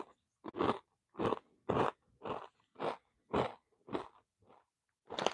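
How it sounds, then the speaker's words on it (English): Close, loud crunchy chewing of Chex Mix snack, with about ten distinct bites in a steady rhythm separated by short silences and no talking. "Forgive me if the chewing is loud"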